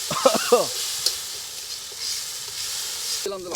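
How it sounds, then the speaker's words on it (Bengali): Datne fish are stir-fried in a pan at an outdoor picnic in the Sundarbans forest, with a steady sizzle and scraping stirring sounds while voices call out briefly at the start and the end. "মাছটা কিন্তু কষাইতে হবে হালকা করে কিন্তু খুব বেশি কষানো যাবে না"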